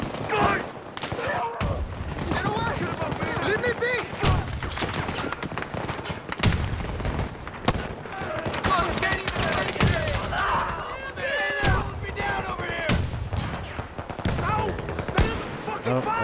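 Video game shootout with dense, rapid gunfire, sustained automatic bursts and scattered single shots crackling loudly throughout, while a person shouts and talks over the fight.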